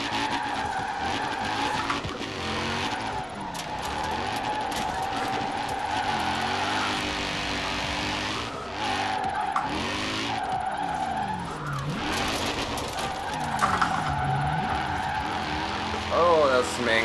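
A Mercedes 280 SL and other cars drifting online in Forza Horizon 4, engines revving and tires screeching in long repeated skids, loud and close with steady engine drone.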